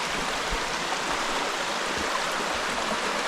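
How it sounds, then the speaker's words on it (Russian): A small river flows steadily past tree roots in a Lithuanian eco-retreat setting, a constant close, even rushing and burbling of water with no voices. "Мне кажется, речка очень красивая."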